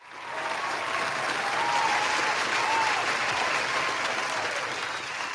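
Studio audience breaking into loud, sustained applause and cheering during a sports talk show, a dense wash of clapping that swells and holds steady for several seconds with no speech on top.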